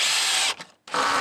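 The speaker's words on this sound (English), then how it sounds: "We'll screw that in." Power drill driving a screw into a joist board, two short whirring bursts separated by a brief pause, close and fairly loud with no talk.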